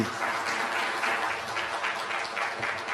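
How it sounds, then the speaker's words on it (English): Audience applause for India's Foreign Minister, Dr. S. Jaishankar, after his talk on India–Japan relations, a steady dense wash of clapping that holds at an even level for about three seconds with no voice over it. "Let's give the Foreign Minister a very warm round of applause for this"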